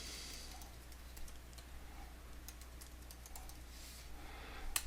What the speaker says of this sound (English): I'm just going to go ahead and type in my information.